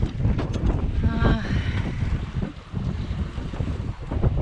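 Wind of about 12 knots blows over a Mini-Transat sailboat in the mid-Atlantic, heard as a rough, continuous gusting rush against the microphone, with water sloshing along the hull underneath.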